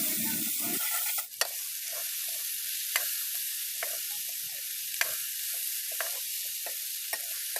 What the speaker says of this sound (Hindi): मसालों को अच्छी तरह से भूनना है जब तक कढ़ाई से तेल ना छूटने लग जाए